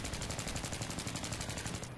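Sustained automatic gunfire in Battlefield 3, a steady rapid rattle of evenly spaced shots running the whole moment, loud and close with no talking over it.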